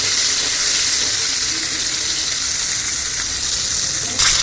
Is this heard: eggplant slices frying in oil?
yes